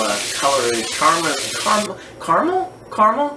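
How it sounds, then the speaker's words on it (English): Food sautéing in a pan gives a loud, broad sizzling hiss for about two seconds and then cuts off abruptly, with a voice talking over and after it. "Saute that up really good"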